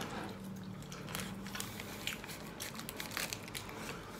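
Crunchy fried chai kue dumplings from a Pontianak restaurant bitten and chewed close to the mouth, a dense run of crisp crackling crunches over several seconds with no talking.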